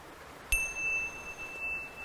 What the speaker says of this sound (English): These are called tingsha bells.